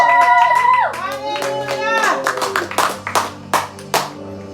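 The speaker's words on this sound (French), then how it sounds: "Acclame encore pour Jésus-Christ ce matin." A church congregation at a morning service applauds for Jesus Christ, with scattered, loud hand claps over singing and voices that grow into distinct claps toward the end.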